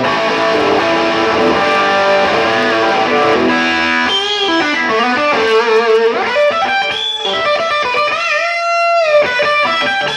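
Electric guitar played through a Monoprice Stage Right 15 amp with gain at max, treble high and light reverb, giving a loud, continuous distorted run of chords and sustained notes that fills the whole stretch.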